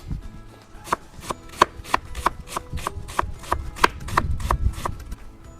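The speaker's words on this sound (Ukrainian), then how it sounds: "Цибулина величенька, наріжемо на 4" A knife chops a large onion on a board for lamb shurpa, around a dozen crisp, evenly spaced cuts that quicken toward the end, close and with no voices.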